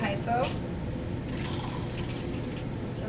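Hypo Clear film chemical being poured from a measuring jug into a film developing tank, a soft continuous liquid trickle and splash heard close up, with a brief clink near the start.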